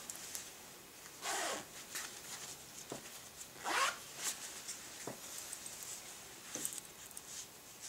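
Zipper on a Gucci lightweight jacket with GG logos, made in Italy with a gray cotton lining, pulled in several close, crisp rasping strokes with short pauses between them, alone without talk.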